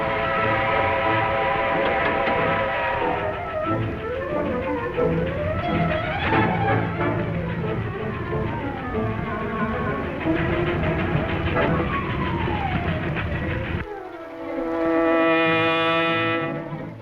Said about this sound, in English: Faster, they're gonna board that train.